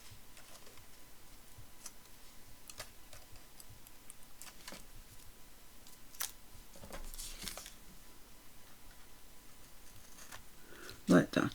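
Scissors trim washi tape while a folio-style journal is assembled, giving faint, scattered snips and ticks against a quiet room, ending in a brief louder rustle.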